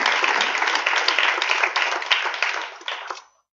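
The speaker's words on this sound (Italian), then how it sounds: "Doppio applauso per la tua parola" Audience applause at an Italian conference on healthcare quality and innovation, a close burst of many hands clapping in a thick, busy patter that thins and cuts off near the end.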